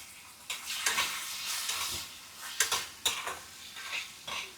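Marinated prawns sizzle in a pan as a utensil stirs and scrapes them in quick irregular bursts, with faint metallic clinks against the cookware.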